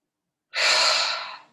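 A single long pranayama breath in advanced Kriya yoga practice, a close, loud, airy rush of air that starts abruptly after silence and slowly tapers off over about a second.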